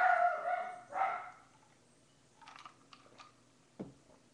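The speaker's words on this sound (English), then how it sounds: "And I apologize for my dog in the background there." A dog barks twice near the start, fairly close and clear, followed by scattered soft clicks and taps like keyboard typing, with one short thump near the end.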